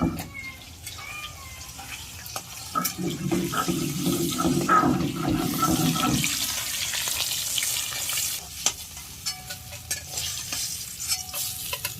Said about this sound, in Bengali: শুধু এই মুড়োটা আর এই মাছগুলো ভেজে নেবো